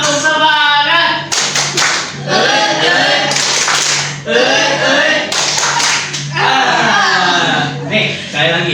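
A classroom group performs a rhythmic 'tepuk semangat' clapping routine during a drama microteaching lesson, loud bursts of patterned hand claps alternating with chanted voices, close and energetic with several repeated cycles.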